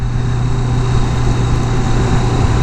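A 2017 Kawasaki Vulcan S motorcycle engine running in fourth gear while riding, a loud, steady hum with constant wind rush and no speech.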